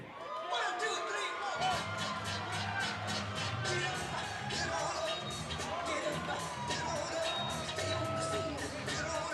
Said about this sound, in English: The crowd here at the Monona Terrace Convention Center still energized by Dante Sciro winning a title